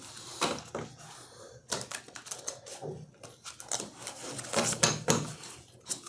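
Tarot cards are shuffled and handled up close, giving irregular crisp flicks, taps and papery rustles in quiet bursts.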